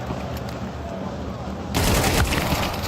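Rapid gunfire in a Counter-Strike 2 esports match, Vitality versus Team Spirit, jumping from a steady noisy background to a louder burst of shots in the second half, with faint commentator talk underneath.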